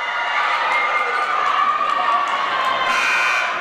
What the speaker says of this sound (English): So now we got a little bit of a cheering game on right now to try and trick us up a bit